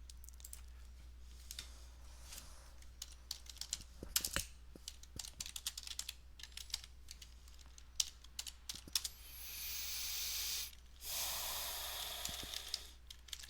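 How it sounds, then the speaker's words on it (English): Computer keyboard typing at a desk while logging in as an administrator to a Django project, a steady run of quick, close clicks with short pauses, followed by a brief burst of broadband hiss near the end. "So I type"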